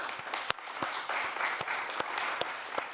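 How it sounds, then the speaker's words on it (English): Sparse audience applause after a guest is called onto the stage at an art-world talk event, a thin spread of claps with a few sharper, louder hand claps standing out, steady and moderately distant. "applause."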